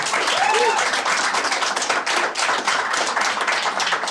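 Scattered, uneven clapping comes from part of a comedy show audience, with individual hand claps standing out over a noisy room murmur.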